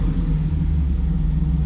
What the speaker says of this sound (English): it's got a little aftermarket exhaust note to it